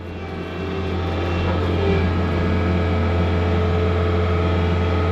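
A Bobcat S66 skid steer's engine runs steadily nearby, a loud continuous droning hum that swells slightly in the first second and then holds even throughout.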